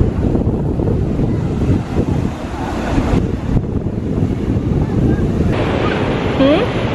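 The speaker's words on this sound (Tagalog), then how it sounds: "Grabe yung alon, oh." Ocean surf at Coolangatta Beach roars steadily, with waves breaking close by and wind buffeting the microphone, while someone talks briefly toward the end.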